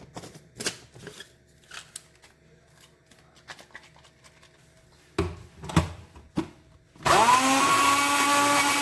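A kitchen blender blending potato with lemon juice, preceded by scattered clatters and handling knocks, then starting abruptly and running loud and steady with a whining motor pitch.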